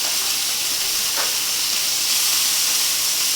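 Chicken thighs frying in a pan give a loud, steady hiss and sizzle that continues without break at close range, with no voices.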